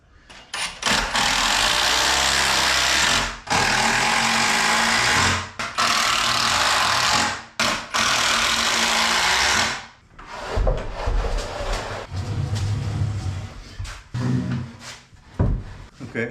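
A power drill drives 4-inch framing screws into picnic table boards in several loud, sustained bursts of whirring, each ending abruptly, followed by quieter clattering and handling of wood.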